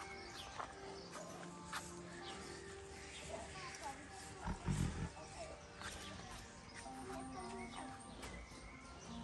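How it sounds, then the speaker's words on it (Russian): White Bengal tigers in a Crimean forest park give rumbling roars, one louder burst in the middle of a busy outdoor scene, with people talking over them. "это наши поющие тигры"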